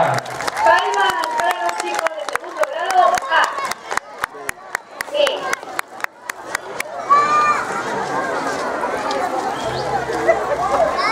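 Audience at a school dance festival applauds second-grade primary dancers after a traditional Ayacucho dance, with sharp claps and cheering up front, then a swelling, continuous burst of crowd clapping and voices near the end.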